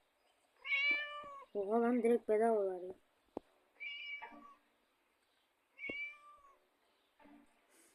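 Several clear meows come from a cat in the video game Scary Teacher, short separate cries spaced a few seconds apart, close and distinct, with a person talking in between.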